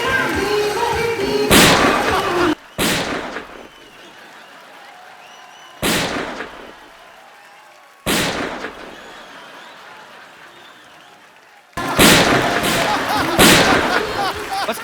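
Several loud gunshots ring out, spaced irregularly, each a sharp crack with a decaying tail, with a quick cluster of shots near the end.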